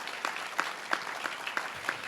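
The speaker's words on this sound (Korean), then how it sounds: "이런 의미로 박수 한번 부탁드리겠습니다." Sparse audience applause at a construction-safety scholarship award ceremony, a handful of distinct claps repeating at a steady rhythm over faint room background, fairly quiet and without voices.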